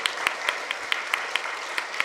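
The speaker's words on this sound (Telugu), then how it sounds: "గట్టిగా చప్పట్లు కొడదాం." A workshop audience keeps clapping, a steady crowd patter punctuated by distinct, evenly spaced loud claps close by, sustained throughout.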